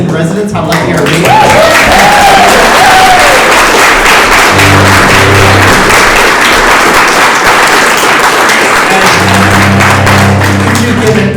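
Loud, enthusiastic audience applause at a lunchtime concert event, sustained for several seconds with dense clapping, a few whistles or cheers early on and low voices and thumps mixed beneath.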